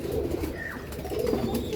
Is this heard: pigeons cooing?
yes